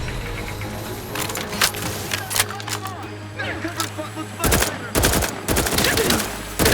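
Gunfire in the video game The Outer Worlds 2: sharp shots and rapid bursts crack out close and loud over a low steady background drone, growing denser toward the end.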